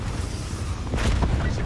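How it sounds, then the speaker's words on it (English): Hellstorm missile strike in Call of Duty Black Ops 4, a rumbling low roar that swells into booming bursts near the end, loud and dense. "Enemy hellstorm detected."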